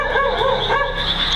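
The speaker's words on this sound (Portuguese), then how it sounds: "enquanto o dog late ao fundo." A dog barks in the background at a cemetery at night, giving a short strained run of yelping, whining barks that rise and fall, fairly loud over a dense noisy bed with no talk.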